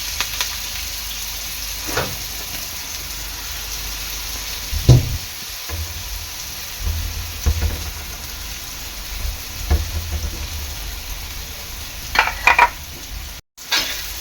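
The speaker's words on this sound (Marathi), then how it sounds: "कांदा चांगला लाल होईपर्यंत परतून घ्यायचं आहे" Chopped onion and curry leaves fry in two to three ladles of oil in a hot pan for tuna fish burji, giving a steady close sizzle broken by stirring scrapes and a few sharp utensil clinks.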